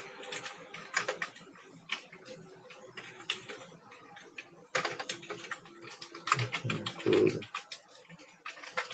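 Typing on a computer keyboard, with irregular bursts of clicky keystrokes close by, pausing briefly and then resuming in quicker runs, fairly quiet overall.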